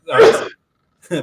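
A single sharp sneeze bursts out close and loud, followed after a short pause by a person starting to speak.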